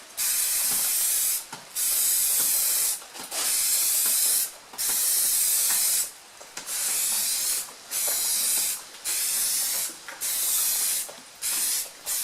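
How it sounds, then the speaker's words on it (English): An aerosol can sprays an orange coat onto a valve cover in a series of about nine close, loud hissing bursts of one to two seconds each, separated by brief pauses. "Now I'm going to go ahead and put on my first coat of orange."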